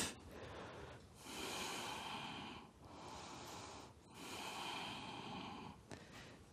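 Deep, breathy inhales and exhales during a yoga backbend in a power yoga session, several long airy breaths in steady rhythm with brief pauses between, close and fairly soft with no talking.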